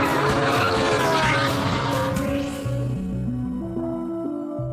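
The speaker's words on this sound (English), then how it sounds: "The back end breaks away like a rear-wheel drive car." A Porsche 918 slides with its rear end breaking away, tires squealing and skidding over a loud engine roar that then shifts into stepped gear-change revs, close and continuous with no talking.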